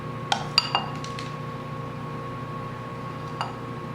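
A knife clinks against a plate while spreading Rice Krispie treats: a few light, close metallic taps early on and one more near the end, over a steady low background hum.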